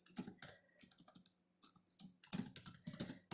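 Computer code is typed on a keyboard in quick bursts of close, crisp key clicks, broken by short pauses, with a brief silent gap midway before the typing resumes.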